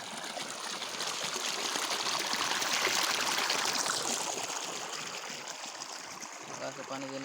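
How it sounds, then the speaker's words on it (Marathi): Borewell water gushes out onto a farm field in a loud, steady rushing stream that stays close and constant, easing slightly near the end. "बघा, बोरला पाणी बघा बरं."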